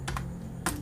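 A few quick keystrokes on a computer keyboard, three short crisp clicks close by over a quiet steady room hum.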